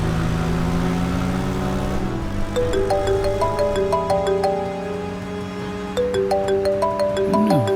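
A mobile phone rings with an incoming call from an unknown number, its repeating electronic ringtone melody steady and fairly clear, running for several seconds with a brief dip in the middle and no talk over it.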